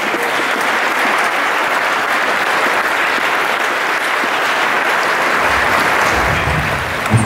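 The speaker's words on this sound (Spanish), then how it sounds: "Así que un aplauso, por favor." An audience at an honorary degree ceremony applauds, a full, steady clapping that fills the whole stretch without letting up.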